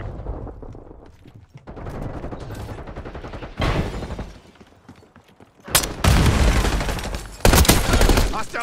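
Gunfire in Call of Duty Black Ops 6 multiplayer, scattered automatic bursts and single shots at varying distances, building to loud, dense volleys near the end, with radio-style voice callouts between.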